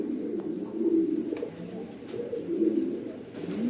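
A pair of black Lahore pigeons coos steadily and close by, low rolling calls repeating in overlapping phrases with no talk.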